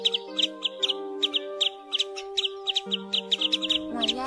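A common greenshank sings in a clear, close recording, with repeated sharp whistled notes in quick pairs over sustained tonal lines, keeping a steady rhythm throughout.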